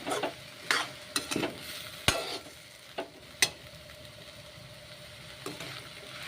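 Noodles fry in a pan with a light turmeric seasoning, giving a soft continuous sizzle punctuated by sharp spatula clacks and scrapes at irregular intervals, close but fairly quiet, with no talking.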